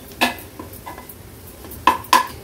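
A spoon scrapes and knocks against a pan while spices and ground masala paste are mixed for a Maharashtrian veg thali, with a few sharp metallic clinks and softer stirring scrapes in between, close up and with no one speaking.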